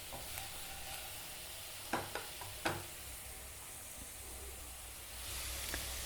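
Oil sizzles with a steady, soft hiss as potatoes fry in a pan, with a few light clicks of stirring partway through.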